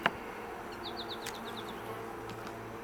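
Honey bees buzz around new splits taken from a swarm hive, a close, steady droning hum with insects passing near.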